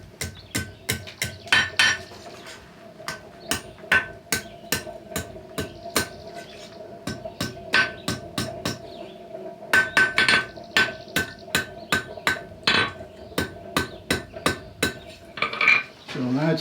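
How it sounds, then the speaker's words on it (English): A blacksmith hammering a small hot metal curl over the side of an anvil, a long run of bright ringing strikes in a steady rhythm with a short pause midway, close and loud. "We're going to do a little curl now over the side end of the anvil here."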